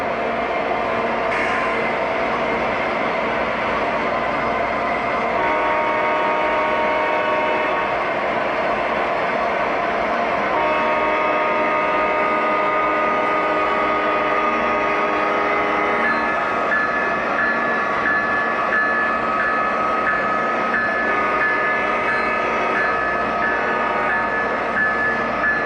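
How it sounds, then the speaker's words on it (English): Norfolk Southern and CSX freight trains rumble past continuously, with a dense steady wash of wheel and rail noise and metallic squeal tones lasting throughout, fairly loud and without talk. "Norfolk Southern and CSX. Look at that big boy puff."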